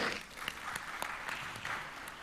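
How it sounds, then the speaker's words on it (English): Conference audience giving a round of applause during a prosperity dialogue session, a faint, distant wash of clapping that stays steady throughout. "Let's give Africa a round of applause."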